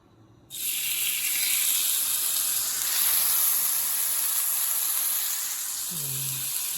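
Burgers hit a hot pan on a stovetop with a sudden, loud, steady sizzle that runs on without a break, and a short voice comes in near the end.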